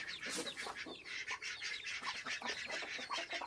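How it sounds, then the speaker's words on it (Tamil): A newly hatched chick calls in a steady stream of high, thin peeps and cheeps, close and fairly quiet, with no talking. "அது ஒரு குஞ்சு இருக்கு"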